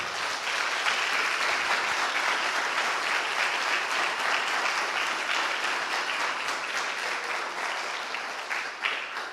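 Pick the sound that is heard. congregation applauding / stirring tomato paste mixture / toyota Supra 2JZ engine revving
congregation applauding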